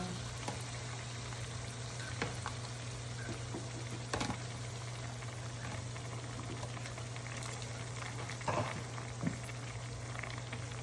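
Chicken and pork leftovers with tomatoes bubble and simmer slowly in a pot, a quiet steady boil with soft patter and a few faint clinks, over a low hum.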